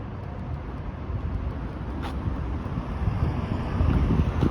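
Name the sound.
city bus engine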